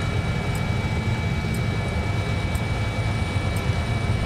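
A helicopter in Battlefield 3 drones steadily and loudly in an airborne-engine roar, with a faint tick recurring about once a second over the din.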